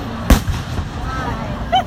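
July 4 fireworks go off with one loud, sharp bang, then a few faint crackles follow, and a voice briefly joins near the end.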